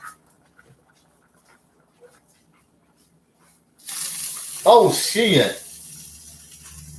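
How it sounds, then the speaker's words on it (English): Water pours from a bathroom tap in a sudden steady hiss that begins partway through after near silence, while a startled voice exclaims over the rush. "I spilled some water."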